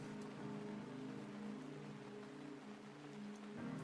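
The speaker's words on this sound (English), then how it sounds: "It's been raining in the game for about 15 minutes with the sound effects" Steady video game rain hisses as a dense, even wash, with a low tonal bed of game music or ambience underneath and no voices.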